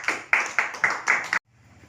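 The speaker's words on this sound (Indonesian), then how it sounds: "Tepuk tangan untuk Pak Samsu Setiaji." Short burst of hand clapping from an audience at a literary art exhibition, five or six distinct rhythmic clap bursts that stop abruptly, followed by quiet room tone.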